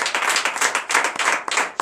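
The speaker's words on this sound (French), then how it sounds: "Donnez de vive acclamation." A church congregation at a morning prayer service in Benin claps and applauds together, a dense, loud burst of many hands lasting under two seconds.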